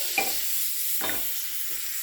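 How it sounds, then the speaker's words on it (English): A tablespoon of butter melting in a stainless steel frying pan gives a soft, steady hiss, with a few brief scraping or stirring bursts standing out nearby. "I want it to sizzle and move around"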